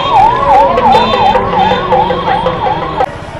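Ambulance siren wailing in a rising and falling loop as it pushes through dense festival crowds and traffic at the Mahashivratri fair at Bhavnath, loud and close, with a crowd and engine murmur beneath that continues after the siren stops.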